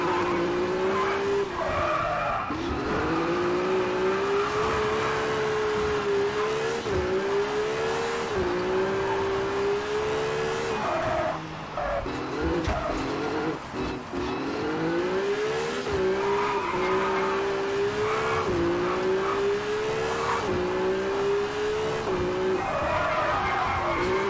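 A rally car in the V-Rally 4 video game drives hard, its engine revving up and down in repeated sweeps while the tyres skid and squeal through corners, loud and continuous throughout.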